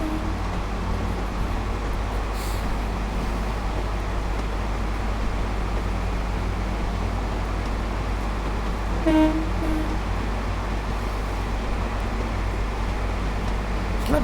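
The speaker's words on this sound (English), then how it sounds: "Terrible, these trains, this 142 on these tracks" A Class 142 diesel unit running on rough track in Train Sim World 5, a steady low rumble and drone throughout, with a short horn-like tone near the middle; no voices.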